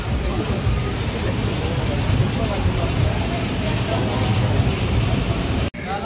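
A passenger train pulls out of Tiruvannamalai station in Tamil Nadu. A steady, loud rumble of wheels and carriage fills the space with faint murmured voices, and a brief dropout comes near the end.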